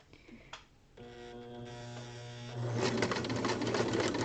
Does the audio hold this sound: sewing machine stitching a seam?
yes